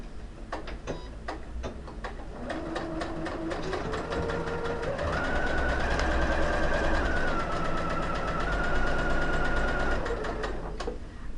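A sewing machine stitches fabric in a rapid, steady mechanical chatter that runs the whole time, with a whining motor tone rising in pitch partway through and then falling again; close and clear, with no voices.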